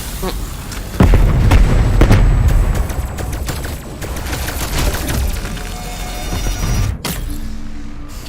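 Gunfire in a zombie video game, aimed at an enemy flying past: loud, dense bursts of shots and booming blasts run almost continuously, with a sharp crack near the end.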